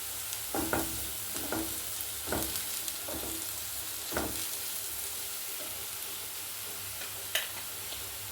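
Continuous sizzling of beef frying in a pan for pepper beef roast, with occasional scrapes and knocks of a spatula stirring.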